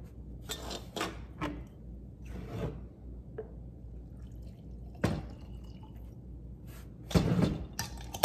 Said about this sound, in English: Bit of water to the applesauce.